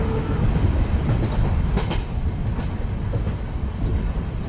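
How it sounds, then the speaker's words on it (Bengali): A train rolls into a station with steady rumbling and clickety-clack of wheels on rails, loud and continuous throughout, used as a sound effect in a Bengali horror cartoon. "কিছুক্ষণের মধ্যে ট্রেন স্টেশনে এসে থামল।"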